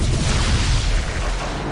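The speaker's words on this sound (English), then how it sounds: "I think I almost got caught up in that explosion." Explosion in the space combat game Netrek: a dense, roaring burst of low rumble and broadband noise that stays loud and steady throughout, with no voices over it.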